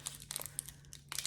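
Foil packaging bag around a Shiseido VisionAiry lipstick crinkles in a few short, close bursts, with brief quiet gaps between the crackles and no talking.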